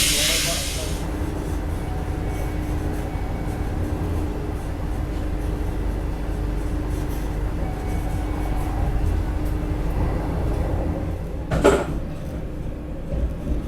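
Steady rumble and hiss from inside the Okha Vande Bharat train running toward Viramgam, a continuous loud ride noise with one brief sharp clatter near the end.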